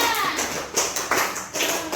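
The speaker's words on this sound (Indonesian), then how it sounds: "Tepuk tangan dulu untuk kelompok 3" A class of students clapping for a student group in a classroom lesson, a few uneven bursts of hand claps close by, fairly loud and without speech.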